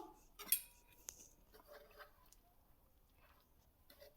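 A spoon scrapes and clinks against a bowl a few times while dry chips coated in cornflour rustle, quiet and close, with soft pauses between strokes.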